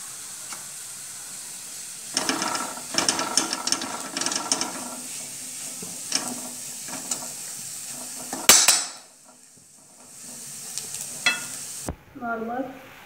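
Misal gravy is stirred in a pan after coriander goes in, with scraping, clinking utensil strokes and light sizzling, a couple of sharp knocks, then a quiet stretch and a faint voice near the end.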